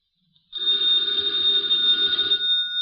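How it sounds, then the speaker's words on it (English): An old-fashioned telephone bell rings loudly and continuously for a couple of seconds after a brief silence. "the ringing of that phone bell means adventure"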